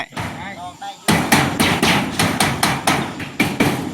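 Rhythmic hammer blows ring out during house roof construction, about ten sharp, close strikes at a steady pace, following brief talk at the start.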